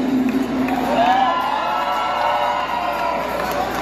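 An outdoor crowd at a civic center in Ecatepec, Mexico cheers and whoops loudly, voices rising together in a sustained roar of excitement.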